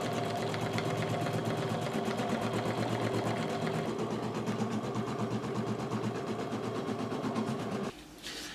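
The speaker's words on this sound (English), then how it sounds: "Once the machine has stitched it down a couple of steps," An embroidery sewing machine stitches Glitterflex onto a hoop with a fast, even mechanical chatter, loud and close for about eight seconds before the stitching stops.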